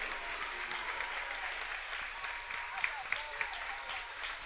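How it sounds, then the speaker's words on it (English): A crowd applauds at a high school basketball game between Mangum and Snyder, steady clapping filling the gym with a few louder claps standing out, while a commentator talks over it. "nice round of applause for that young man"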